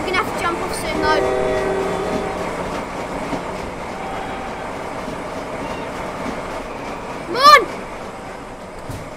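A train rolls along in the Roblox game Jailbreak, its low steady rumble running under game music and a brief squealing tone near the end, while a player shouts once briefly.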